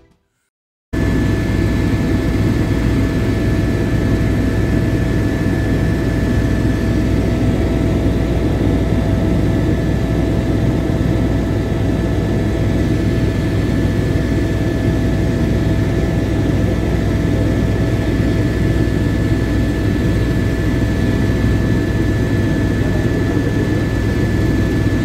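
A helicopter's engine and rotor give a loud, constant roar with a steady high whine, droning on without pause, close by at a helipad in Jammu and Kashmir.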